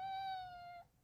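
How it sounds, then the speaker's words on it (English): A pet cat gives a single drawn-out meow, a clear tonal cry lasting under a second that fades and stops, heard quietly and fairly close with no talking over it. "That's my cat."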